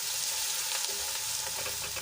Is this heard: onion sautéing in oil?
yes